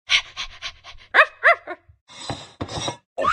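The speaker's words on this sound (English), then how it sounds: "dog" A cartoon dog from a Sesame Street kitchen video game pants and yaps in short bursts, close and clear, with a few quick breathy panting puffs between the louder vocal yelps.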